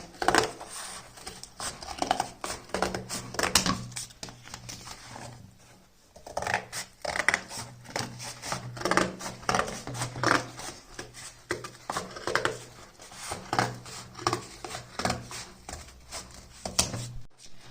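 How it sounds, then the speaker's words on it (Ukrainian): Repeated cutting of many strips for trench candles, a steady series of quiet snips and rasping cuts close by, with short pauses between runs. "Нарізаємо вдосталь смужок."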